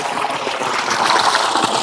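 Clear, cold canal water used to irrigate farmland flows and trickles close by, a loud continuous gurgling rush.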